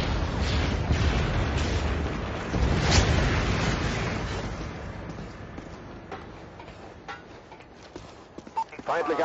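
Explosions rumble and boom in a multiplayer match of the video game Call of Duty: Modern Warfare 3, a loud burst near the start fading into scattered impacts and clatter.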